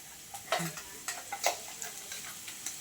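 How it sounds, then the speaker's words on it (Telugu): Ginger garlic paste frying in a pan for gongura chicken, a close sizzle with quick spatula scrapes and clinks in an uneven rhythm. "ఒక రెండు స్పూన్లు అల్లం వెల్లుల్లి పేస్ట్ యాడ్ చేసుకున్నాం"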